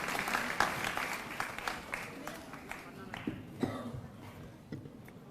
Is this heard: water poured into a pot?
no